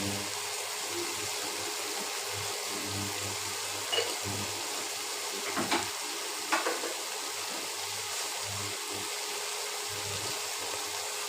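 Cauliflower curry fries in a pan and is stirred, a steady close sizzle broken by several scraping stirs and clatters of the spoon, with no voices.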